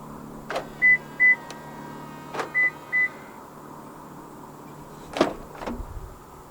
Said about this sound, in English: press the ribbed area once to unlock the driver's door and press it a second time to unlock the rest of the car